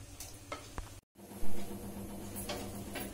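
Leftover mutton marinade sizzles and is stirred in a pan of hot oil already used for frying mutton, a close, steady frying hiss with a brief sharp flare after a short gap.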